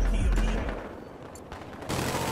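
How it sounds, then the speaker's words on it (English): Gunfire in the Battlefield Hardline shooter game, a loud rattle of rapid shots and fusillade, with a short lull and then renewed firing near the end. "Oh, we're taking fire."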